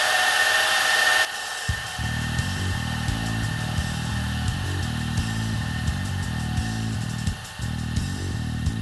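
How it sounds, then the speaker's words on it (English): A milling machine makes a climb cut on a metal knife guard, giving a loud, continuous close-up grinding whine with a steady tone that starts after a short burst of noise. "I'm doing something that's called a climb cut, which means as I'm going side to side, I'm slowly going down."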